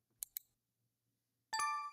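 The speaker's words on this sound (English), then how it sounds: "come on, ring that bell" Two quick bright dings from a notification bell, spaced a fraction of a second apart and followed by a louder sustained chime with a ringing tone, all clear and close with no talk.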